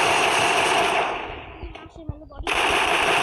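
Rapid gunfire from the mobile shooter game Free Fire, a loud continuous automatic burst that fades out, leaves a short gap with a few separate shots and speech, then resumes at full volume.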